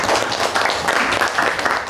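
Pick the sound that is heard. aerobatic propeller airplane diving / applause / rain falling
applause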